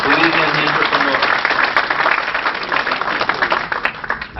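Applause at a 1991 Los Angeles dinner meeting on investing in Belize, honoring foreign investors and Belizean entrepreneurs: dense, steady clapping from a crowd that fills the whole stretch, with a voice briefly audible near the start.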